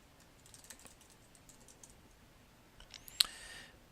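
Light, sparse keystrokes tap on a computer keyboard as a password is typed, soft irregular clicks in a quiet room, closing with a sharper, louder click and a short rustle.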